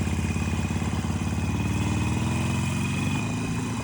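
A Harley-Davidson Sportster motorcycle engine runs with an odd clattering, lumpy rhythm. It is loud and close, with a steady low throb and no talk over it.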